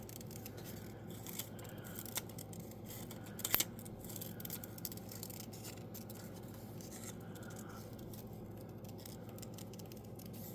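Scissors snip around a sticker for a daily journal page, making several quiet close cuts with one sharper snip partway through, over a faint soft background.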